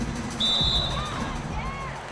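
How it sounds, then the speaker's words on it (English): In an NBA 2K16 basketball game, a referee's whistle gives one sharp, bright blast over steady arena crowd noise and sneaker squeaks. "And there's the whistle on the shot"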